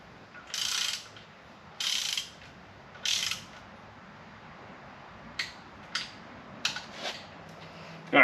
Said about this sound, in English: I got the torque wrench out. So 22 foot-pounds on all of them, crisscrossing pattern.